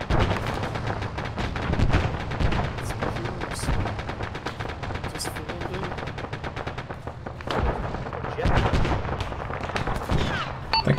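Sustained gunfire in the military shooter ARMA during a bay invasion, dense rattling shots and heavier thumps continuing throughout, fairly close and loud, with occasional voices mixed in.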